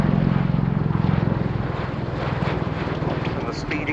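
A tiltrotor aircraft at RIAT roars loudly and steadily with a rhythmic rotor throb as its rotors tilt forward into aircraft mode, a commentator talking over it.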